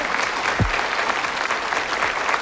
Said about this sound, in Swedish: Stora applåder.